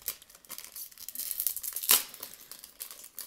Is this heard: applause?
no